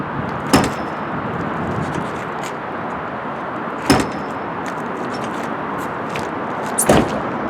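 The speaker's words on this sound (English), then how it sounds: "You have to smash the doors." Dodge Viper doors are slammed shut three times, each a sharp, solid thump separated by a few seconds of steady outdoor background noise.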